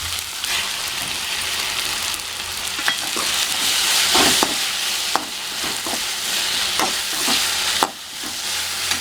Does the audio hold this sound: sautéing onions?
yes